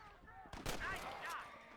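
Gunshot in Red Dead Redemption, a single sharp loud crack followed by a ringing, echoing tail, with a voice briefly around it.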